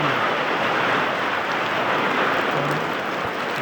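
Heavy rain pours down steadily and loud, a dense unbroken hiss of downpour with no break across the whole stretch and no voices.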